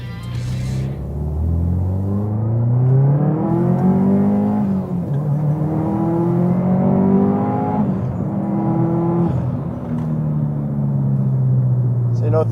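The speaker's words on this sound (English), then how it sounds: "Do a little wide open throttle stuff here and see how the car goes." A COBB-tuned Subaru STI accelerates at wide open throttle up a freeway on-ramp, its engine note climbing through the revs and dropping at each gearshift in loud, near rumbling pulls.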